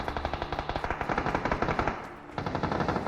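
Rapid automatic gunfire in PUBG on PC rattles in steady bursts, pausing briefly before resuming, with a punchy, game-like sound and no talking.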